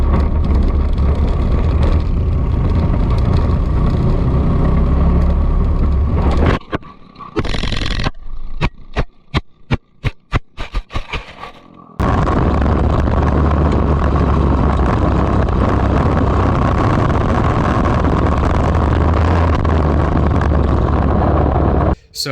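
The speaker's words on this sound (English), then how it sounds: "I'll show you guys the footage here of the crash from my POV and also Ryan's POV." Onboard sound of a racing kart at Cobden, its engine roaring loud and close, then breaking into a series of sharp irregular bangs and scrapes as the kart crashes, before the steady engine drone returns.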